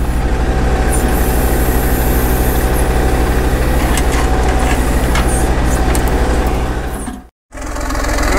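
Caterpillar RD6 crawler tractor working at full load to move a big stump, its engine a loud, steady, close diesel rumble that runs without a break for most of the clip, cuts out for a moment near the end, then returns.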